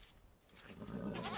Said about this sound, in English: I think I found all my sheep.